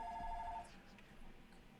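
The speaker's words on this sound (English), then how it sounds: "Sorry, my phone's ringing in the background." A telephone rings faintly in the background with a short electronic two-tone burst that stops after about half a second, leaving quiet room noise.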